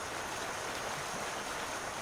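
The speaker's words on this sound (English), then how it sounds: "you can hear the water running out the back of our farm" Water running steadily behind a farm in Farming Simulator 19, a continuous rushing stream that is even and unbroken with no voices.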